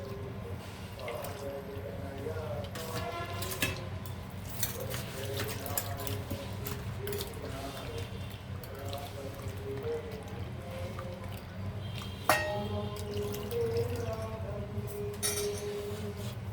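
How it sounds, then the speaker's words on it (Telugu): Tamarind juice, from soaked tamarind, is poured into a kitchen bowl of ingredients, making a steady liquid splashing with faint drips and glassy clinks and one sharper clink near the end, close by. "ఈ చింతపండు రసం కూడా దీంట్లో వేసేయాలన్నమాట"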